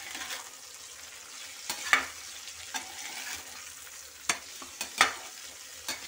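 Bitter gourd and garlic frying in a pan, stirred with scattered sharp scrapes and clacks of a spoon over a faint, quiet sizzle.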